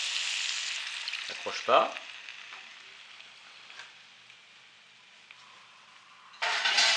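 Pork kidneys simmer and sizzle in a pan with a steady, fairly quiet frying hiss, a brief clatter near the start and a louder burst of sizzling at the end, while a voice speaks briefly.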